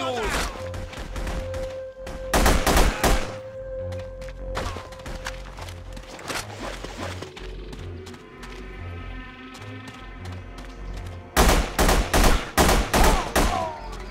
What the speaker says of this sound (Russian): Стрельба, наверное, весь остров потревожила.